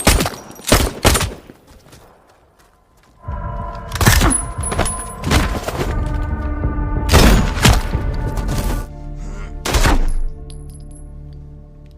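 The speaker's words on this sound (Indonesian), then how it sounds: "terjadilah baku tembak" Gunfight in an action film: bursts of rapid gunfire and heavy booming shots, loud and close, with quiet gaps between volleys and a lingering rumbling tail after the blasts.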